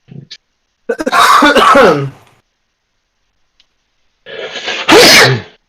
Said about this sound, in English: Excuse you. Bless you. He sneezes.